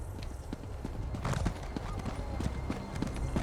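Horse hooves clip-clop at a steady walking pace in the Elder Scrolls Online game, carrying on beneath game voices and ambient sound.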